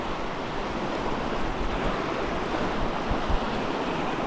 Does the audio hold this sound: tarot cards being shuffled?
no